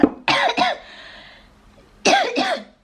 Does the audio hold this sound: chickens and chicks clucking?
no